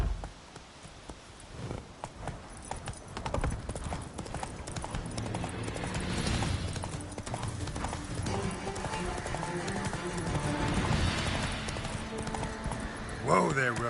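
Roach the horse galloping in The Witcher 3, a steady rapid drum of hooves on ground close by, with someone speaking over it and a louder clatter near the end.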